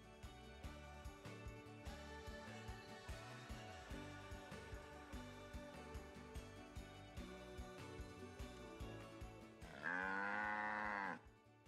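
Near an outdoor campsite in Australia, a single cow gives one long, loud moo near the end, following a stretch of music with rhythmic thumps.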